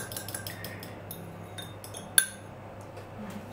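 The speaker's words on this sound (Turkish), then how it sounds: "Bunları güzelce bir çırpayım" Tomato paste, water and oil whisked in a glass, producing quick repeated light clinks and scrapes of a utensil against glass with one sharper ping, close and fairly quiet, no talking.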